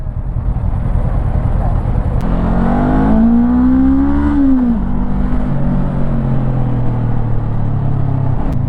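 A 2024 Honda NX500 motorcycle engine runs steadily while riding through city traffic, a continuous rumble that rises in pitch through a rev and then settles, with someone speaking over it.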